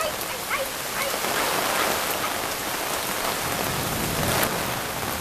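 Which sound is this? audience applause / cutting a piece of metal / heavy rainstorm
heavy rainstorm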